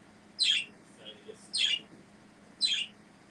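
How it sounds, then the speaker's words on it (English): Three bright, sharp chirps from small pet birds, spaced about a second apart, with faint softer twitters in between and a quiet room behind. "So you're going to hear our pretty birds."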